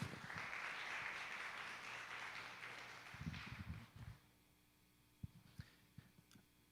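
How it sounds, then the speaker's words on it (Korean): A church congregation at a Sunday youth worship service claps loudly for about four seconds, the applause then thinning and stopping, followed by a few scattered clicks and soft knocks in a quiet hall. "하나님께 영광의 박수 올려드리겠습니다"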